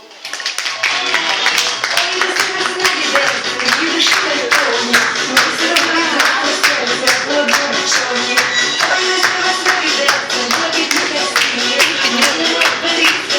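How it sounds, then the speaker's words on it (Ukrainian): Parents and guests at a kindergarten Mother's Day concert break into steady, close applause, many hands clapping in a dense patter that keeps going, while a voice speaks over it. "Отож, дружніми оплесками зустрічайте наших артистів."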